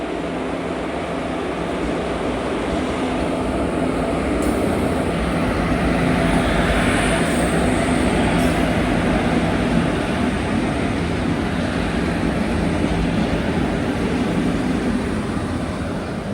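A goods train rumbles past a halted Duranto Express on the Konkan Railway, a continuous loud rolling roar with wheel clatter that holds steady for the whole stretch, with no voices.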